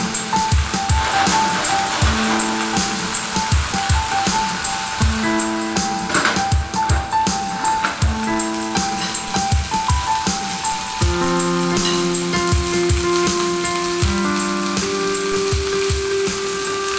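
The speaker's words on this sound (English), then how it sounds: "Go ahead and drop those steaks in there. Sear them on a nice medium-high heat" Steaks sear in olive oil in a hot pan over medium-high heat. The sizzle is loud, continuous and close, with occasional light clinks.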